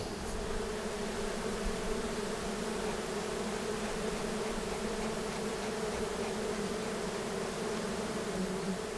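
Honey bees swarm in a steady, dense buzzing drone as their hive is taken apart inside a house, continuous and close, with no voices.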